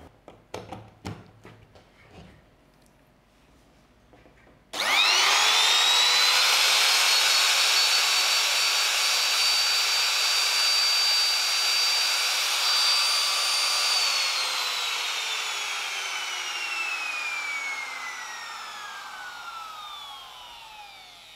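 A BRAXTER BT370-WT wood trimmer router runs with no load. It starts abruptly after a few quiet seconds with some faint clicks, rises to a loud, steady high-pitched whine, then slowly winds down as the motor coasts to a stop.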